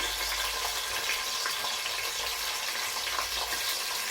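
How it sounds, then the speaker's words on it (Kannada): Chopped onions fry in hot oil in a pan for a mushroom biryani, giving a steady, close hiss and sizzle with faint stirring, and no one speaks. "ಆನಿಯನ್ ಫ್ರೈ ಆಗಬೇಕು."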